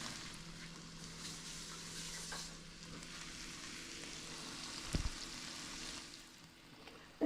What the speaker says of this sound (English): we're gonna give this a good stir